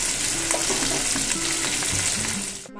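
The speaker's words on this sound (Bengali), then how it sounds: "যাই হোক মাছগুলো ভেজে নিই।" Amudi fish frying in hot oil in a kadai, a dense, loud, steady sizzle and crackle with faint stirring scrapes, close up, ending abruptly.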